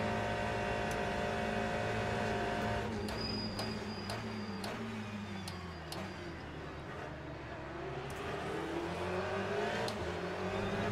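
Race car engines howling through a final lap in a racing video game, a continuous loud whine with shifting pitch as cars accelerate and brake, with no pause in the engine noise.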